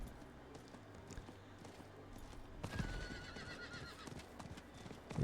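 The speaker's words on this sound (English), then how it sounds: "At least I can ride the horse down here" A video-game horse gallops with quick, rhythmic clip-clop hoofbeats, then gives a whinny, with a faint soft background underneath.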